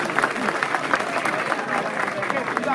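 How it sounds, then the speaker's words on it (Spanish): An outdoor plaza crowd at a neighbourhood theatre finals event applauds in a steady, moderately loud burst of clapping, with voices audible underneath. "Fuerte el aplauso"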